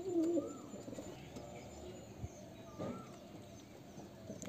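Low, gentle cooing from a Murshidabadi Giribaj pigeon opens with a short throaty phrase, then fades into faint ambient noise and a few small knocks, no one speaking.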